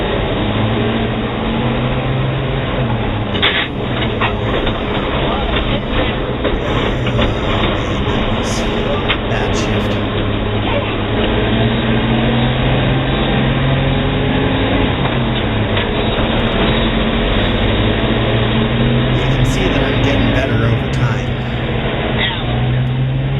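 A 70-year-old truck's engine droning loud and steady through gear changes, a heavy low mechanical rumble with rising and falling revs, continuous and close with road and cab noise.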